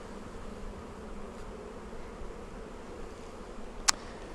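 Honeybees hum steadily around an open hive during a pre-spring inspection, a soft, continuous buzzing drone at moderate distance, broken once by a brief sharp click.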